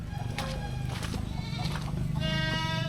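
Goats bleating in a village goat pen in an old Javanese hamlet deep in the forest, several wavering calls over a busy outdoor background with other farm sounds nearby.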